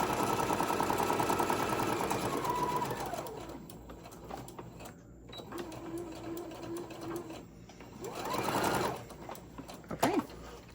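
A sewing machine stitches a seam on a Halloween tote bag, a close, rapid mechanical whir that runs steadily, then stops for handling sounds, a short squeak and a final brief burst.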